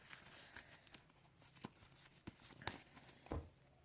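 A Yu-Gi-Oh card deck is shuffled by hand in quiet, papery bursts of riffling and sliding cards, close and soft, with a few sharper snaps toward the end and no talk.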